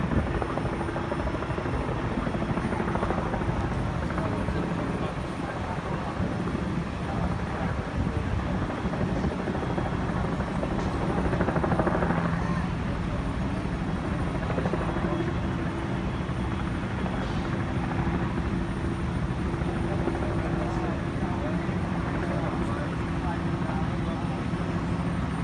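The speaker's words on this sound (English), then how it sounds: "The chopper hovering overhead to get the aerial footage right now." A news helicopter hovers overhead above a house fire in a Malden, Massachusetts neighborhood, its steady rotor thrum continuous and fairly loud throughout, with faint voices in the background.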